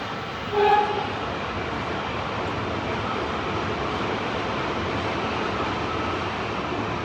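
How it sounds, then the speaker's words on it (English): A metro train or tram pulls into a station on a hot day, a steady broadband rumble and rush of wheels holding for several seconds, with a brief higher tonal squeal near the start and no voices. "I do believe this is my train."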